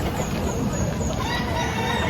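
Chickens cluck at a chicken market in Lipa, Batangas, amid a dense, noisy outdoor wash of sound, their calls blending into a continuous busy background.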